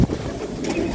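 Black pigeons cooing close by, a soft low throaty coo repeating through a short stretch with steady background noise and no voices.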